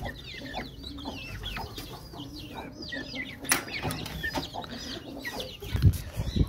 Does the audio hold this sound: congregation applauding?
no